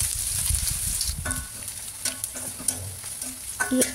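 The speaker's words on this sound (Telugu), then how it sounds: "ఇక్కడ ఆయిల్ అయితే మంచిగా వేడెక్కిపోయింది. చూడండి, ఆనియన్స్ వేసి బాగా కలుపుకోవాలి." Onions sizzling in hot oil while being stirred for an Indian-style chicken dish, a loud close crackle broken by sharp scrapes and knocks of the spoon against the pan.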